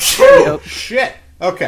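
A single sharp human sneeze bursts out at the start, close and loud, followed by a few short spoken words.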